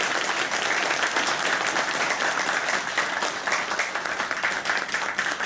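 Sustained applause from an audience at a Buddhist inauguration ceremony in a temple hall, dense steady clapping lasting throughout with no voices over it.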